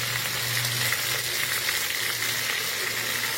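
Ground garlic, onion and spice paste frying in hot oil in a pan while cooking banana flower, a loud continuous close sizzle with bubbling crackle and faint stirring, no voices.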